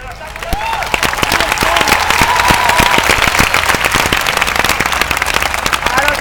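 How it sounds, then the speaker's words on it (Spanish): Large outdoor crowd at a protest camp in València applauding the organizers, loud dense clapping rising quickly and holding steady, with scattered cheers and voices mixed in. "lo único que quiero pedir es un magnífico aplauso para la organización"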